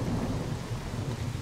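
Heavy rain pours in S.T.A.L.K.E.R.: Call of Pripyat, a dense steady hiss over a deep, rolling thunder rumble, with no voices.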